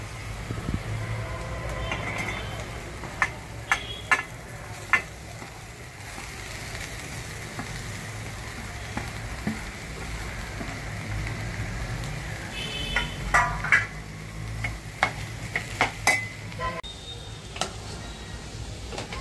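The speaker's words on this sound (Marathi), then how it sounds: "उकडलेला बटाटा आपण आता त्या फोडणीमध्ये चांगला मिक्स करून घेतलाय" Boiled potatoes being stirred into a hot turmeric tempering in a pan for a potato bhaji, a steady low sizzle with scattered scraping clicks of the spoon, louder towards the end, no talk.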